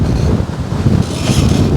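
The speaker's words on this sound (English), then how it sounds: "I don't know if you can hear anything anyway because of the wind noise" Strong wind buffets the microphone aboard a Lagoon 38 sailing catamaran in swell, a loud, continuous roar with rising and falling gusts and no clear voices.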